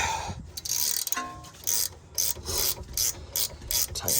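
A ratchet wrench clicks in repeated bursts while tightening a wheel bolt stud on a 2012-2015 ninth-generation Honda Civic, loud close metallic ratcheting strokes separated by short pauses, no talk.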